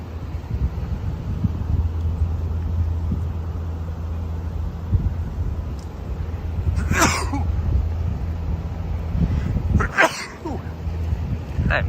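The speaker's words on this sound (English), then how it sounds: "I'm sneezing." A person sneezes outdoors on a street in Asakusa, Tokyo, with two sharp bursts heard over a low, steady traffic rumble and wind.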